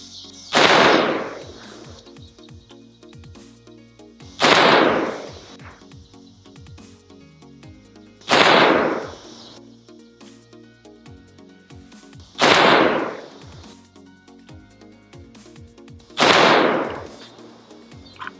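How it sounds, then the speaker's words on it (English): Five loud, close rifle shots ring out at steady intervals of about four seconds from a 16-inch mid-length barrel firing a 55 grain Sierra Blitzkrieg load, each a sharp crack with a short echoing tail. "This is their 55 grain load, so a little bit lighter in terms of weight with the Sierra Blitzkrieg bullet."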